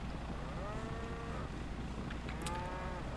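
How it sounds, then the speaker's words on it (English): Cattle mooing in Microsoft Flight Simulator, faint, drawn-out lowing calls heard twice from a distance over a steady low background hum, no voices present. "You can hear the cattle, you can almost smell them."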